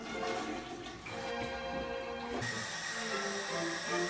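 Rushing water from a sound effect played in an attic studio, a loud continuous hiss and gurgle like a roaring river that shifts in tone partway through, with no voices.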